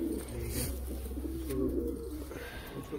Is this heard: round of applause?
no